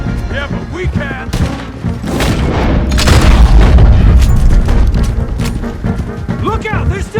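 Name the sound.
gunfire in Red Dead Redemption 2 video game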